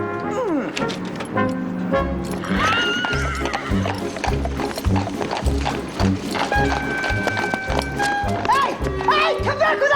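Steady clip-clop of horse hooves trots along under busy music, with a horse whinnying and voices shouting briefly.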